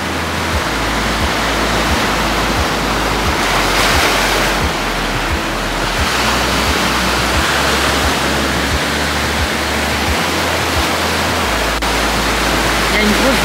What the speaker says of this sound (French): j'aime trop aussi quand les vagues elles s'écrasent en fait sur les rochers